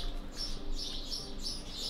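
Birds chirping in the video game Trove, faint high tweets repeating every half second or so over a soft steady ambient bed, with no talking.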